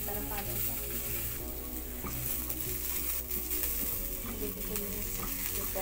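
Chopped onions heat in a pan for momos, giving a steady close sizzle with soft stirring scrapes throughout, with no voices.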